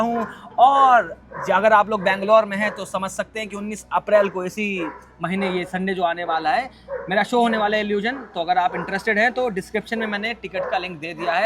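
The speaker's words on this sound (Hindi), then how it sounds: "बाहर कुत्ते भौंक रहे हैं" Dogs bark and yip outside in scattered bursts, partly buried beneath someone talking continuously close by.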